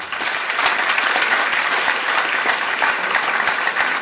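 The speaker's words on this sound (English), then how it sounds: "So another round of applause." A crowd claps steadily and enthusiastically, a dense continuous patter of many hands throughout.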